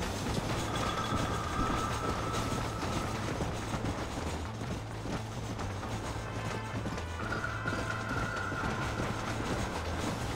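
A train runs steadily in Red Dead Redemption, a western video game, with a continuous rumble and rhythmic wheel clatter at a constant, fairly loud level for about ten seconds and no talk over it.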